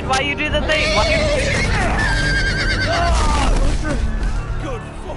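Horses whinny and neigh repeatedly in a Game of Thrones video game, the calls rising and falling over dense, loud game sound with rumbling effects and intermittent player talk.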